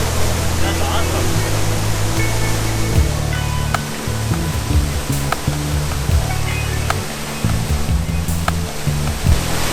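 Drainpipe Falls flowing strongly, a loud, steady rush of falling water that fills the whole clip with dense, continuous roar and low churning rumble.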